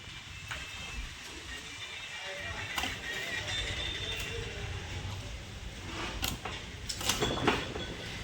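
Copper winding wire is pulled out of a submersible borewell motor coil, giving a close, continuous scraping creak and grinding rasp with a few sharper bursts near the end.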